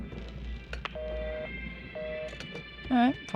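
Telephone dialing in the video game Karma The Dark World: two steady dial tones sound in turn, followed by a short rising warble, over a low background hum.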